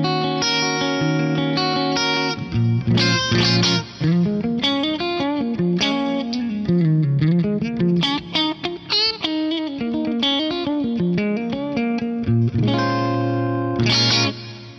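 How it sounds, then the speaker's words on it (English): An electric guitar plays a melodic line with chords, drenched in a big, lush concert hall reverb modeled on a Lexicon PCM81, letting notes ring out and blend. "let's select a lovely big reverb. I'm gonna go with this PCM81 concert hall."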